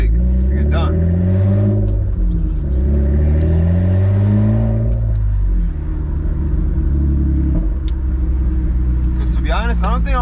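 A Honda Accord with loud open headers drives on the street, its deep engine drone rising and falling as it revs and accelerates, close and heavy, with someone talking over it.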